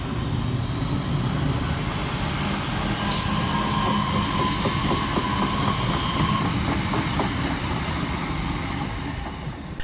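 A train at Stockport railway station rumbles loudly and steadily close by, with a continuous heavy roar of wheels and rail that stays constant throughout and only eases slightly at the end.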